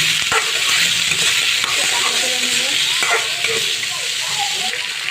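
Potatoes sizzle loudly in hot soybean oil with sliced onions, a constant dense hiss close up, broken by scraping and clattering as a spatula stirs the pan.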